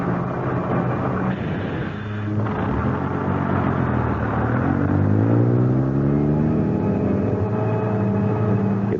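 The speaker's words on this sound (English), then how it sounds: "It was a long bus ride" A bus engine, as a radio drama sound effect, drones steadily, then shifts and climbs in pitch as the vehicle pulls along, heard alone without voices.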